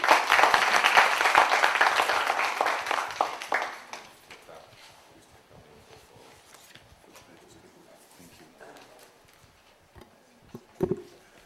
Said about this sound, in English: So a warm round of applause as well.